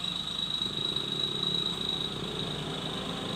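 Motorcycle passing on a street, a steady mid-pitched engine drone with a high whine that holds fairly loud and close for a few seconds, no voices.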